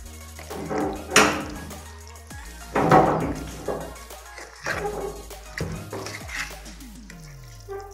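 Dhokla batter made with leftover rice being stirred in a bowl, uneven scraping and sloshing strokes at close range, repeated in several bursts.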